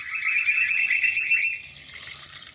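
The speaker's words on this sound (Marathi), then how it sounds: "साबुदाणा आपल्याला स्वच्छ धुवून यामध्ये पाणी टाकून घ्यायचं आहे" Water is poured onto sago pearls in a bowl for washing, a steady close hissing gush that continues throughout with a slight shift near the end, no voices.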